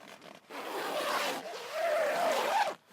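A zipper is pulled along the pocket of a Kampa Croyde 6 Air Pro tent, giving two close, continuous rasping runs with a short pause between them, with no voices heard.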